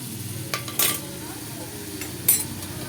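A lid goes onto a cooking pot on the stove with a few metallic clanks and knocks. One sharp clink comes near the end, over faint background kitchen noise.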